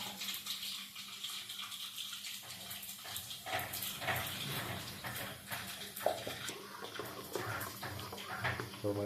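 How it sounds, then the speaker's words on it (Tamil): Ground tomato being stirred into tamarind water for a ladies finger tomato gravy, a continuous watery sloshing and swirling at moderate level for several seconds, with faint clinks and no talk. "my mother is mixing nicely for gravy and tasting"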